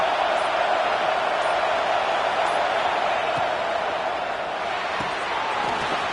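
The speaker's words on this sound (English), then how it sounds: "this home crowd is fired up and ready to make a difference" A home crowd at a football game roars with excitement, a steady, loud wash of cheering that fills the whole stretch without a break.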